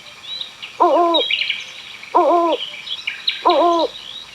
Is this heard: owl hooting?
yes